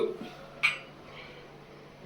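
A bowl dropped into a kitchen sink gives one sharp metallic clatter, near and brief, amid quiet room noise with faint background sounds.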